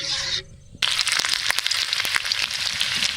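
Mustard oil sizzles in a pan for tempering khichuri, starting abruptly after a brief lull with loud, crackling spits and pops that continue steadily.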